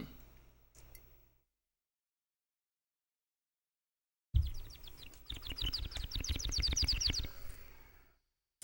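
A person imitating bird noises with the mouth, giving a quick run of chirpy, tweeting whistles close to the microphone after a long silence, loud and busy for about three seconds before fading out.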